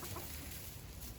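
Bourbon Red turkeys, two toms and a hen, cluck softly on a homestead, with a steady low murmur of birds close by and no talking.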